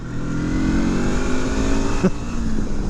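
A Sinnis Terrain T380 motorcycle pulls in second gear on a country road, its engine droning steadily and loudly close up with a slight rise in pitch and a brief bump partway through.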